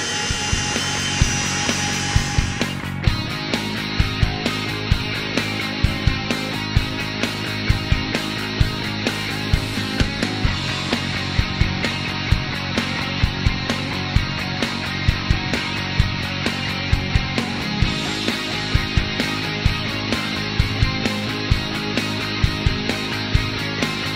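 Powered rear extension on a Danbury Doubleback VW T5 campervan running after a button press: a steady electric motor whine that hums on continuously for over twenty seconds, fairly loud and close, with no talk over it.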